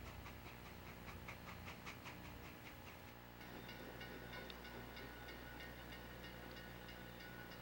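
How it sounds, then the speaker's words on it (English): A railway engine backs up at Hamilton Station with a Niagara Falls bound train, giving a steady, close rumble with rhythmic clicking and a hiss of steam, continuous and without any voices. "a Niagara Falls bound train. The engine's backing up."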